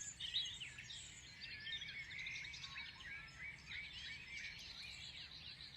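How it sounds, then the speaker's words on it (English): Many birds chirp and sing together at a distance, their varied calls overlapping over a soft, steady background hush. "Perhaps you can hear different kinds of birds."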